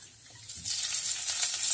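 Curry leaves hit hot oil already roasting cumin and asafoetida for a vegetable kadhi, setting off a steady bright sizzle that swells after a soft start and holds close and continuous, with no voices.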